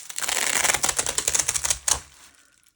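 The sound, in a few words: peeling a bicycle sticker off its backing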